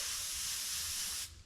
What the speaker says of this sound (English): turn my air pressure down, and spray it and layer it up